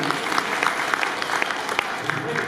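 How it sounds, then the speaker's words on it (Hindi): An audience at a Hindu saint gathering (sant sammelan) applauds loudly and steadily, dense overlapping claps filling the space with a crowd murmur underneath, holding at an even level from start to finish. "इन लक्ष्मियों के लिए एक बार जोरदार ताली बजा दीजिए।"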